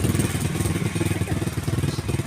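A motorcycle engine runs close and loud with a rough, uneven pulsing beat, its firing stumbling and sputtering as if misfiring, with no clear speech over it.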